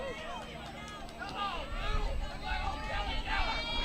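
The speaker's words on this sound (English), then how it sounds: "Crowd letting the umpire hear it." Spectators at a high school softball game shout and yell at the umpire, a raised, overlapping babble of voices swelling from a distance and growing louder over a few seconds.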